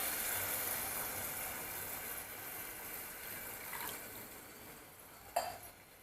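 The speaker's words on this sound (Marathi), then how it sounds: "हे बघा एक वाटी पाणी घातलेले मी आता" Water is poured from a small bowl into a cooking pot of rice and chana dal for a pulao. It makes a soft, steady, close-up rush, and a brief metallic clink sounds near the end.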